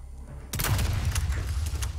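A sudden explosion bursts out in Resident Evil 4 Remake after a quiet half second, with a loud crackling rumble that rolls on and decays through the rest of the moment.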